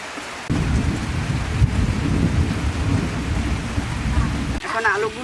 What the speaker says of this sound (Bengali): রান্না চলতেছে বৃষ্টিতে, আমরা ঘরের ভিতরে উঠে বসে আছি।